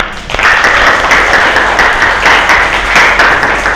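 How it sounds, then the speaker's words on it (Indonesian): A classroom of students claps for a group music performance of Song of Joy in an arts lesson, loud close hand clapping starting abruptly and continuing steadily with individual claps standing out. "Tepuk tangan dong"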